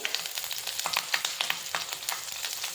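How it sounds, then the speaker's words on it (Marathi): Green chillies fry in a little oil in a kadhai, giving a bright, crackling sizzle with rapid small pops, close and steady over a few seconds, with no voices. "आता हिरवी मिरची फ्राय करण्यासाठी मी इथं कढई घेतलेली आहे, त्यात थोडंसं तेल घातलेलं आहे."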